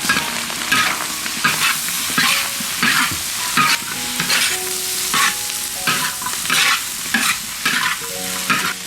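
Lamb, potatoes, red pepper and onion stir-fried over high heat in a wok, loud continuous sizzling with rhythmic scraping and tossing strokes of the spatula repeating every half second or so.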